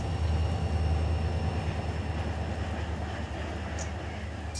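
A freight train of tank cars and plastic pellet hoppers rolls past in Run 8 Train Simulator, a steady low rumble with faint rail squeals, continuous and fairly quiet throughout.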